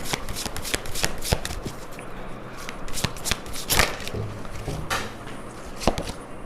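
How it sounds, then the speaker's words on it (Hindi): A deck of True Love Oracle cards is shuffled by hand, with rapid, crisp riffles and slaps close up in a quick uneven rhythm, no talking over them. "Now let's see one card from the true love Oracle."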